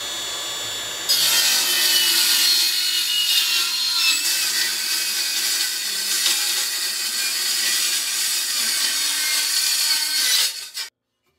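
Metal pieces for a Mercedes-Benz van subframe being cut with a power saw, a steady loud abrasive grinding rasp running about ten seconds alone before stopping abruptly.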